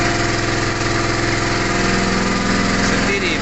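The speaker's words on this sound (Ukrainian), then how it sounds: "генератор від газу працює дуже чудово" A 4.5 kW gas-powered generator runs at close range, making a steady, loud mechanical drone with no change over the few seconds and no talking.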